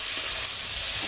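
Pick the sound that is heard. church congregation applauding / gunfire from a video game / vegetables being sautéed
vegetables being sautéed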